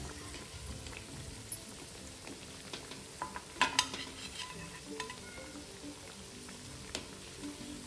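Crisp cabbage vadis fry softly in hot oil with a faint, continuous sizzle, punctuated by light clinks and scrapes as they are lifted out of the pan.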